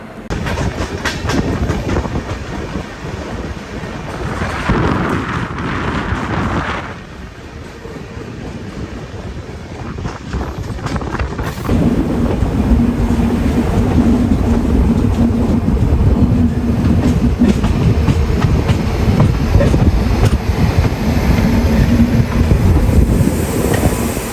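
The Howrah Jagdalpur express passes close by, heard as a loud, continuous rumble with rhythmic clickety-clack of wheels over rail joints and some wind buffeting, building heavier after the first half.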